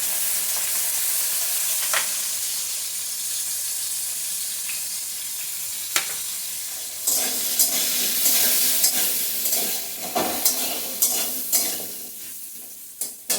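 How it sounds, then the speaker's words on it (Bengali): Cubed potatoes fry in hot oil in a kadai, a loud, continuous sizzle that grows busier midway with repeated sharp scrapes and clatters of stirring. "আলুটা ভেজে নিচ্ছি"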